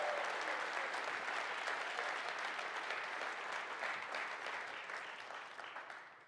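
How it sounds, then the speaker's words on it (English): A church congregation claps hands together during a sermon, a fairly faint, distant wash of sustained applause that slowly fades out toward the end. "give the Lord a big hand clap"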